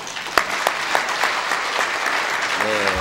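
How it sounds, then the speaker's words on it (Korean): Steady applause from a church congregation fills the room, welcoming a missionary speaker, with a few sharper claps standing out, and a voice begins speaking near the end. "한번 크게 환영과 격려로 박수합니다"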